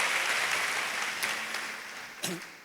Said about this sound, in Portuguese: Quero uma salva de palmas.